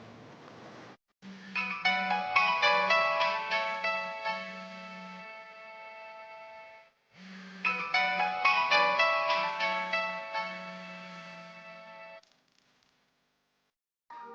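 A phone rings with a bright melodic ringtone over a low steady hum. Two bursts of repeating chimes are separated by a short pause, with no voices.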